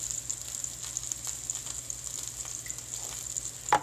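Onions frying in a pan for shepherd's pie, a steady close sizzle with light crackling and a soft scrape near the end.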